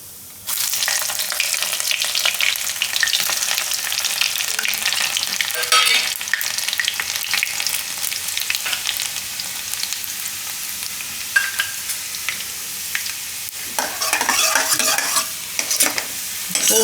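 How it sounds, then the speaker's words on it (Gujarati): Mustard seeds, cumin and garlic hit hot oil after a brief quiet start, bursting into a loud, dense, steady sizzle with spitting crackles and a few stirring scrapes, no one speaking. "તેમાં આપણે પહેલાં થોડીક રાઈ નાખીશું અને થોડુંક જીરું અને આ લસણ."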